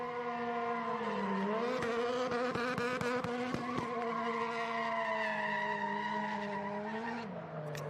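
Travis Pastrana's race car doing donuts at Sonoma Raceway during the Velocity Invitational: a loud, sustained engine howl rising and falling with screeching tire skids throughout, close and continuous.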